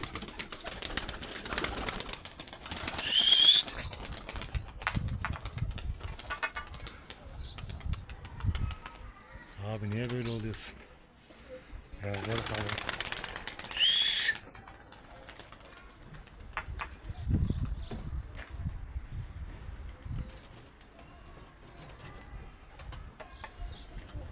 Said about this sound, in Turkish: Şimdi kaldırıyorum kuşları.